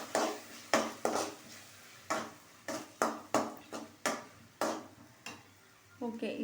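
A pan of masala for Tamil-style crab curry being sautéed, with a spoon scraping and clinking against the pan in a dozen sharp, irregular strokes, close and fairly loud with no talking.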